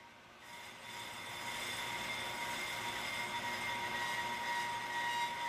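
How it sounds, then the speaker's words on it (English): A Pro Cut PFM brake lathe's cutting bit touches a brake rotor, producing a steady high-pitched whine with tonal ringing over a constant machine hum that swells slightly and holds. "you can see the cutting bit touch the rotor as well as hear it"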